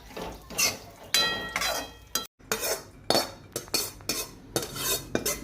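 Cashews and almonds are stirred while they fry in ghee for laddoos, producing repeated loud spoon scrapes and clinks against the pan in uneven bursts, with a faint sizzle underneath and no talking.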